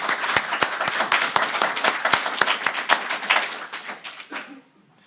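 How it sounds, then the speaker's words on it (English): A conference audience claps steadily for several seconds before the applause quickly fades out to quiet. "So I deserve polite applause"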